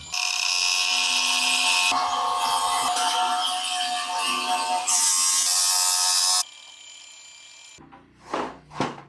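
A power saw cuts a Shera Plank fibre cement board for a wall installation, a loud steady high-pitched grinding that runs for several seconds, drops to a quieter whine, then stops as a couple of short rustles follow.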